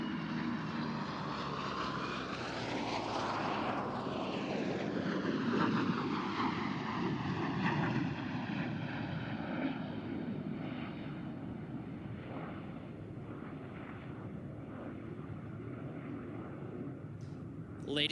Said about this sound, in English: You'll be able to hear that distinct growl of the Corsair's Pratt & Whitney radial engine